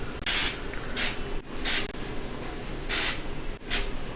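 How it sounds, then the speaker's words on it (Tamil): A spray can of ghee lets out five short, loud hissing bursts close by, each lasting about half a second and separated by brief pauses, with no one talking. "நெய்யை கொஞ்சம் நல்லா ஸ்ப்ரே பண்ணிவிடுவேன்"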